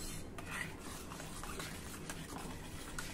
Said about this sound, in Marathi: आपण गॅस बंद करून टाकूया आणि हे एक वेळा नीट मिक्स करून घेऊ